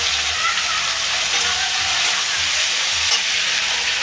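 Onions, cinnamon and cloves hit a hot frying pan for chicken aloo gravy, producing a loud, steady, close sizzle that continues without a break.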